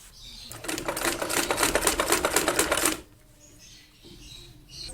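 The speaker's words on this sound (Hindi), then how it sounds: "यहाँ पर हम इस कपड़े को रखते हुए सिलाई करेंगे" A sewing machine stitches fabric onto a button tag strip for a gents suit, running in a fast, even mechanical rattle for about three seconds before stopping abruptly, leaving quiet room tone with a faint soft voice.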